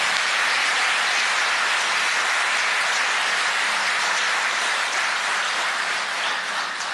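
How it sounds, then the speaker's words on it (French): Steady, dense applause fills a national assembly chamber for about seven seconds, a broad even patter of many hands with no talking over it. "Second bon applaudissement pour Adama Bictogo."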